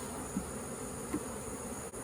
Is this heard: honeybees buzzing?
yes